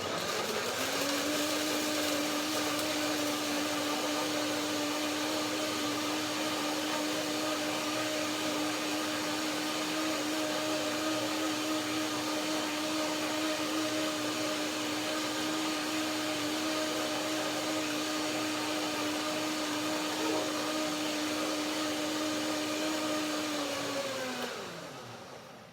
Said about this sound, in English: just to get the blender going, and the blades have a little bit of water